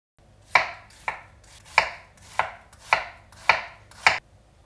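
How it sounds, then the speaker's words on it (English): A kitchen knife slices an onion on a cutting board for yakisoba: seven crisp, evenly spaced cuts, close and clear, with no talking. "Now we lay this down and we're going to slice this into about 1/8 to about 1/4 inch thickness."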